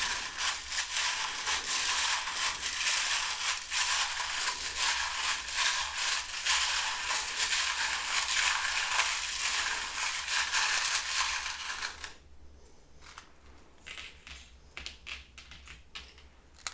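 Small charms rattled and pulled from a metal charm tin make a dense, continuous jingling clatter for about twelve seconds, close and loud, then thin out into a few sparse clicks with no talking.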